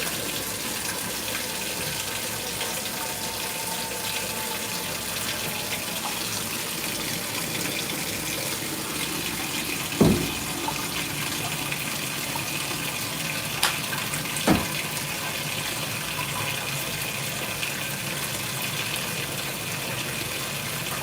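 A 2016 Speed Queen 9 Series washer fills with water for its rinse cycle, a steady, even rushing of water that carries on throughout, with a couple of faint clunks partway through.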